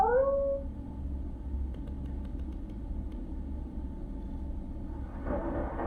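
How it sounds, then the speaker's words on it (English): A brief cat-like yowl in the Glicea video game opens with a falling, meow-like wail, then fades into a low, rumbling ambience with faint scattered clicks. "Was that supposed to be a cat?"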